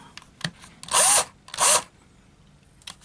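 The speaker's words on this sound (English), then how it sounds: "I think I've now got myself a lovely working power drill" A repaired Power Performance power drill runs in two short bursts of about a third of a second each, whining loudly up close, with quiet handling clicks around them.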